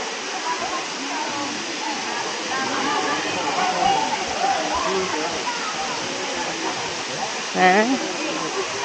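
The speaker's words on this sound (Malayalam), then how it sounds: "ഇതാണ് വെള്ളച്ചാട്ടം, അരീക്കൽ വാട്ടർഫാൾ. ചെറിയ വെള്ളച്ചാട്ടം കേട്ടോ." A small waterfall, the Areekkal falls, gives off a steady, dense rush of falling water that fills the scene at an even level, with a brief voice breaking through near the end.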